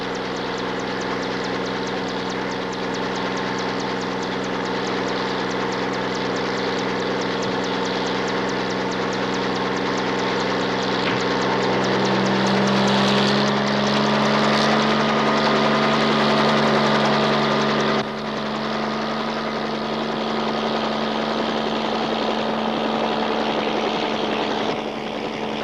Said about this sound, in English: I want you to get back up in that chopper.